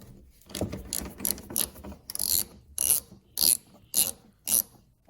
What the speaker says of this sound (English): Use my ratchet.